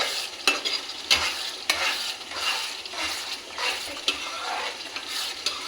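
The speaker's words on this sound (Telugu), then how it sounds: "ఇప్పుడు కాస్త బెల్లం అయితే యాడ్ చేయాలి. బాగా కలుపుకోండి." A spoon or spatula scrapes and stirs jaggery into a thick, oily mixture in a pan. Repeated scraping strokes sound over a soft, continuous sizzle, with the occasional clink against the pan and no one speaking.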